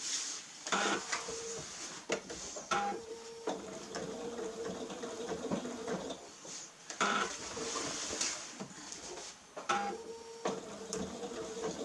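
A long arm quilting machine fitted with a non-stick needle stitches steadily, its mechanical whir and rapid needle clatter running close and continuous with a few sharper knocks along the way.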